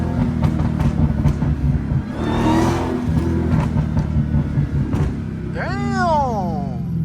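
A Dodge Hellcat engine rumbles and revs close by, a deep throaty exhaust drone surging with a rising and falling whine near the end, while someone talks over it.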